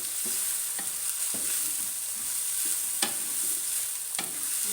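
Turmeric, ground red chilli and other spices fry in oil for masala bhindi, a steady bright sizzle close up, broken by several sharp scrapes of a spoon stirring the pan.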